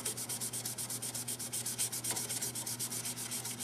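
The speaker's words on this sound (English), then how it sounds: "I want to take and sand with the grain, with the lathe off, moving it by hand" Rhythmic back-and-forth rubbing of sandpaper on a wooden pen on a stopped lathe, sanded by hand with the grain, quick regular strokes repeating steadily, fairly quiet and close.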